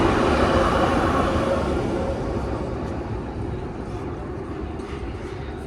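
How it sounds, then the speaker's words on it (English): A train rumbling across an elevated track in Budapest, heard from beside the river below; a loud, broad roar that slowly fades as it passes, with no talk. "if a train goes by, it's gonna be crazy loud"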